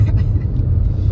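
A new CNG car travels along a road with passengers aboard, giving a steady, close low engine and road rumble throughout with no voices over it.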